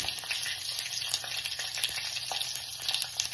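Close, continuous crackling sizzle of spices popping in hot oil, busy and even throughout with tiny sputtering bursts.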